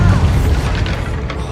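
A Bombarda blasting spell in Hogwarts Legacy on PS5 booms loudly up close, a heavy crashing burst that fades into a rumbling tail with a few faint knocks near the end.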